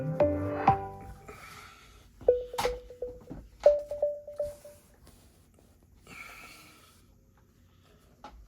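A Soundcore Boom 2 SE Bluetooth speaker powering on, giving a series of electronic tones and chirps in short bursts, with brief pauses and faint handling noise between them.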